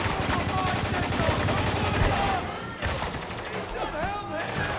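Rapid, dense automatic gunfire rattles continuously in the military shooter Spec Ops: The Line, with overlapping bursts and a short lull before the shooting picks up again. Voices can be heard under the shots.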